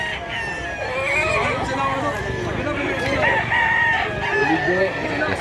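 Roosters crow repeatedly and hens cluck in a thick, steady wall of bird noise at a busy chicken market in Mantalungon, Barili, Cebu, while voices talk underneath.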